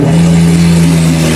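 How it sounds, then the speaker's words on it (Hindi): A car engine at a fair's well of death, started and now circling the wooden wall, gives a steady loud drone with a strong low hum throughout. "गाड़ी स्टार्ट हो चुकी है, अभी गाड़ी घूमने लगी है"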